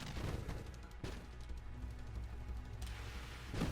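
Explosions in the space shooter game Nova Drift: a continuous crackling barrage of blasts, with sharp bursts at the start, around one second and near the end, fairly faint overall.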